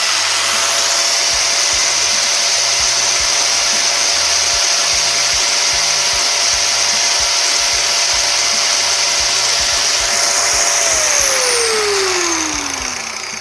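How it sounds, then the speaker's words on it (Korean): Corded angle grinder spinning at full speed, a loud continuous high-pitched whine held for over ten seconds before the pitch drops as it winds down, close and with no one talking. "유선 그라인더 RPM을 한번 확인해 보도록 할게요"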